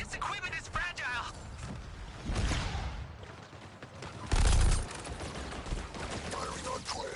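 Bursts of gunfire in the Justice League video game crackle under a voice and game effects, with a heavier blast mid-way among mechanical clicks and clatter.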